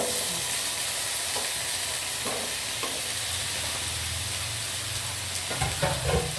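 Potatoes and carrot fry in a pan with a loud, steady sizzle and hiss, broken by occasional stirring clatter.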